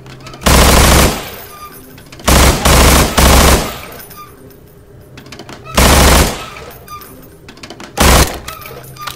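Gunfire in a shooting gallery in the video game Estranged, loud repeated bursts of automatic shots in clusters separated by short pauses, with faint background sounds between them.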